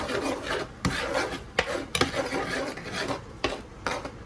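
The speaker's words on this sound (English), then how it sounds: "I shouldn't be scraping this because this is a non-stick pan" Minced garlic toasting in olive oil is scraped around a non-stick pan with a utensil, giving close, rough rasping strokes punctuated by several sharp knocks over a soft sizzle.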